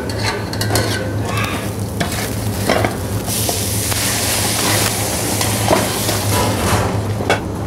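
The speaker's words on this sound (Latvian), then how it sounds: "Un lejam buļļonu klāt." Broth is poured into a pan where liver and rice are frying. A loud, close, continuous sizzle runs throughout, with bubbling and splashing and scattered stirring clanks.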